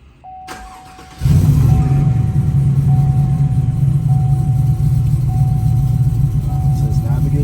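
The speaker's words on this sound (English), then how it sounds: "Now it says to start the car" A car engine cranks and catches after a brief silence, then settles into a steady, loud idle close by, with a thin electronic tone beeping through, while a vehicle's tuning software is set to log data.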